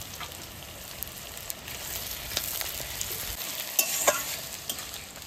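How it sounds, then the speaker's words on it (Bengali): Onions frying in oil in a pan, sizzling steadily while a utensil stirs them with intermittent scraping clicks; close and fairly quiet, with no talking. "পেঁয়াজটা আমার মোটামুটি ভাজা হয়ে গেছে"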